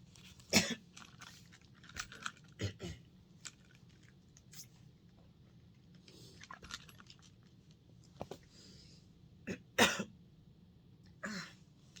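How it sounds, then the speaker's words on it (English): Someone coughs a few times at scattered intervals, faint and close, in an otherwise quiet space. "A little bit coughing."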